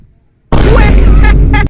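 A loud, sustained burst of game gunfire lasting about a second, ending with a couple of sharp cracks, with no talking.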